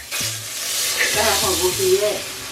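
Butter sizzles in a pan for a spicy seafood boil sauce, a steady close frying hiss running throughout, with voices murmuring faintly underneath.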